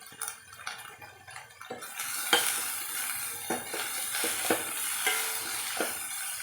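Onions with salt and turmeric being stirred in a pan for instant horse gram soup: continuous close sizzling with scraping stirs and soft knocks of the spoon, steady and moderately loud, with no talking.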